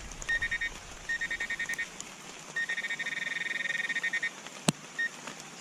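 A metal detector held over a buried target while relic hunting in West Virginia gives rapid, pulsing electronic beeps in repeated bursts, faint against outdoor background noise.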